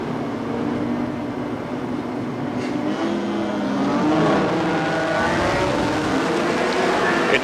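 A field of around 20 touring cars, under 3.5 litres, accelerates away from the start of a 1981 race, a broad, sustained engine roar that swells as the pack gets wound up, with a commentator talking over it.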